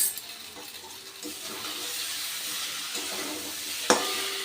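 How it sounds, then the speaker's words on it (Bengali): Spice masala stir-fried with vegetables in a pan gives a steady hiss of sizzling, rising slightly over time, with one sharp clack of a utensil near the end and no talking. "আবারও মশলাটাকে আমি সবজির সাথে খুব ভালো করে কষিয়ে নিয়েছি।"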